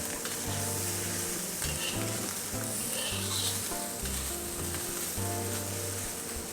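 Salted fish, chili, spring onions and lettuce stir-fry with a loud, continuous sizzle, punctuated by clattering utensil strokes against the pan.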